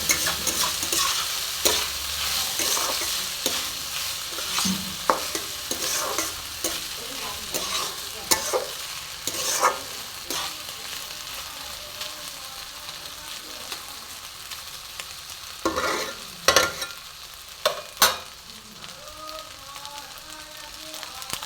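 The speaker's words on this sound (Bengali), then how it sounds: "বারবার নাড়তে হবে বন্ধুরা, নাহলে কিন্তু চালটা তলায় লেগে যাবে কড়াইয়ের গায়ে।" Rice is stirred and fried in a kadai over a medium flame for raw banana pulao, with a continuous soft sizzle broken by frequent scraping and stirring knocks throughout.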